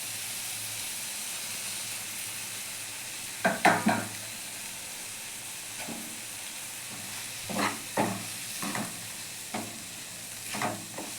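Onion, tomato and green chili fry in a pan for an egg curry, a steady close sizzle running throughout with several bursts of stirring scrapes, no talking.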